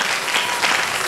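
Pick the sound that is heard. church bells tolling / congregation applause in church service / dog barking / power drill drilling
congregation applause in church service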